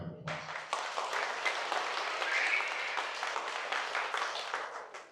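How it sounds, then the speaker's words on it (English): Audience at a celebration lunch with city council members applauds, a dense run of clapping of a few seconds that fades out at the end. "If you give them one more round of applause."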